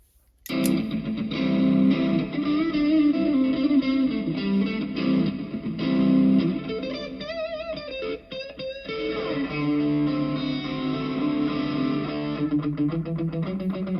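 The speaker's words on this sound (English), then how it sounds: "I'm going to go over to the reverb here first and turn that on." Electric guitar played through a LEKATO multi-effects pedal with its reverb switched on, sustained chords and notes ringing out with lush, lingering tails, slightly gritty, loud and alone for about fourteen seconds.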